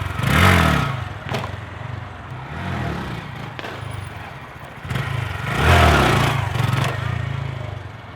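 A Honda Grom motorcycle revs in short bursts while lifting the front wheel, two loud throttle surges with quieter idling and clatter between, close by and outdoors.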